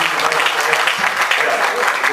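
Audience applause at an evening event, a dense, steady wash of clapping throughout with some crowd noise mixed in.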